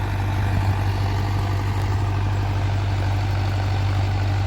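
An Arjun Novo 605 DI tractor with an 8-foot rotavator attached idles nearby, giving a steady, loud, low engine drone that holds without change and has no talk over it.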